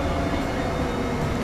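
A train running in the video game Transport Fever, a steady loud rolling rumble and hiss of a moving rail vehicle with no breaks, heard up close.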